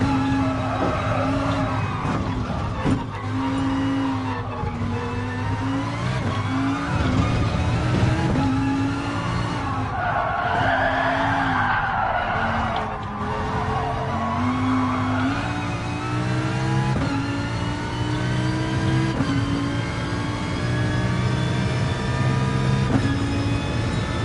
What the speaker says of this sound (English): Look at these cars, they just slide like nothing else.